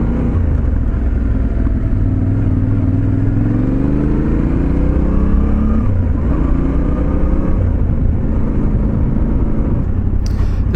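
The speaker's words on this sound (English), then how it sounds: "Tenere 700 is a very smooth running motorcycle." A Yamaha Tenere 700 motorcycle engine runs steadily and close by, with a low, even drone and gentle rises in pitch, alone with no talk.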